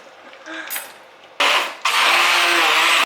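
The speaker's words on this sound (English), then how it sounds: "I should have taken the stick blender out beforehand." A stick blender whirs loudly and steadily in a home kitchen during pesto making, cutting in abruptly, pausing briefly, then running continuously at close range.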